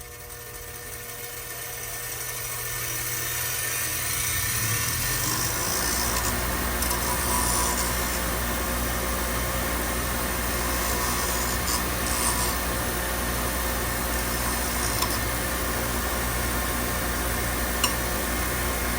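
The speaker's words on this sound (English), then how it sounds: "Bench grinder." A bench grinder runs steadily as a gouged engine part is smoothed down for fitting into a new cover, giving a loud continuous abrasive grinding with bright scraping that grows rougher once the metal meets the wheel.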